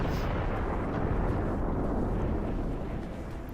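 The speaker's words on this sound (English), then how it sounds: "Dude firing the mortar there." A mortar fires in the Guild Wars 2 siege of Stonemist Castle, a long, dense rumbling blast that holds loud and broad before slowly fading toward the end.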